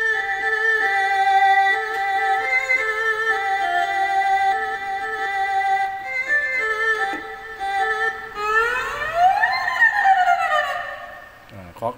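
Thai so fiddle sample played on a Yamaha PSR-S650 keyboard, a reedy bowed-string tone carrying a wavering melodic line with sliding pitch bends and vibrato, moderately loud and continuous, with a short percussive hit at the end.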